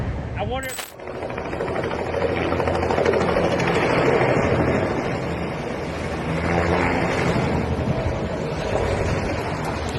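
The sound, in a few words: helicopter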